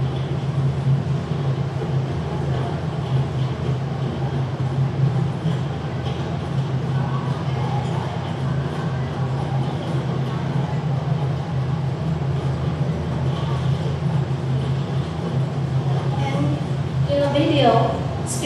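Inside the Bongbong train, a continuous low rumble and hum of the carriage riding along fills the scene, with rattling and scattered higher clatter throughout.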